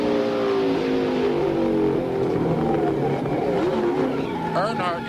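Onboard with a NASCAR stock car during the 1999 Dura Lube Kmart 300, a loud, steady engine drone fills the clip with slight pitch shifts, while a commentator talks over it.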